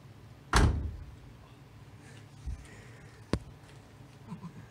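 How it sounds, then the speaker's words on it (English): The door of a 1970 LS6 Chevelle convertible swings shut with one solid, close thunk, followed by a couple of fainter knocks and rattles from the car afterward. "watch how nice that this door closes"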